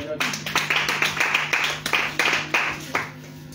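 A church congregation claps together in steady rhythm to acclaim the Lord during a prayer vigil, the sharp, close claps repeating about every half second with a sustained voice beneath.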